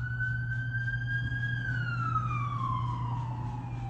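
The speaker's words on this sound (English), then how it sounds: "but we still have to pause for the sirens." Emergency vehicle siren passing outside a library building, a steady loud wail that holds then slowly drops in pitch as it moves away, over a constant low hum.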